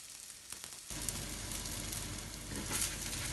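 Msemen flatbread sizzles steadily in a hot pan, a continuous crackling fry that grows louder after the first second and stays dense throughout, with no voices.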